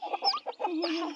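Newly hatched native chicks peep and cheep in a quick, close series of high chirps with short gaps between them.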